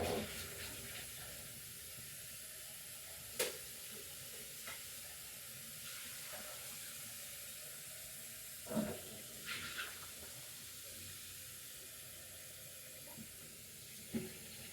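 Water running from a tap, a steady faint hiss of flow that carries on throughout, broken by a few brief clunks and knocks.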